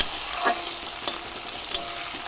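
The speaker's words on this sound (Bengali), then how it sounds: "সামান্য নুন হলুদ দিয়ে আলুগুলোকে নাড়িয়ে চাড়িয়ে ভালো করে ভেজে নেব" Potato pieces fry in hot oil with salt and turmeric, a continuous soft sizzle with occasional stirring taps and scrapes of a spatula in the pan, no voices.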